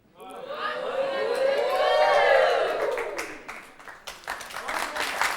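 A French game-show studio audience claps and cheers, rising to a sustained swell of applause before thinning into scattered claps, with voices mixed in near the end.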